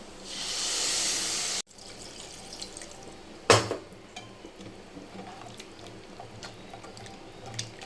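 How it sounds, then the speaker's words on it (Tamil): A broad rush of water pours into a cooking pan of fried masala for about a second and a half, then stops abruptly, followed by a single clank and quiet bubbling. "தேவையான தண்ணியும் ஊற்றிக்கலாம்"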